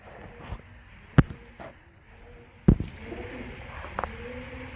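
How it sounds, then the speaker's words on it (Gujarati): Pigeons nesting inside a large, deep well, their faint low cooing echoing against the walls, with a few sharp knocks and clatters nearby. "અંદર કબૂતર છે કેટલાય"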